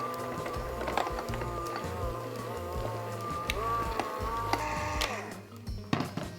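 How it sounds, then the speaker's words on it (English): An electric mixer at medium speed blends almond flour into tart batter with a steady whirring drone and light irregular knocking, close by, easing off near the end. "add almond flour or almond powder and mix it with a mixer at medium speed until combined"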